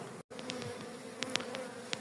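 Honeybees buzz in a hive feeder as the roof of a small nucleus hive comes off, a steady low hum with brief louder buzzes from individual bees passing close, and one short dropout near the start.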